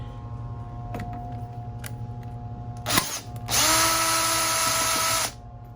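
A power drill with a T40 bit whirs briefly, then runs in a sustained loud burst for about two seconds before stopping as it removes seat bolts in a Dodge Promaster van, over a low background hum.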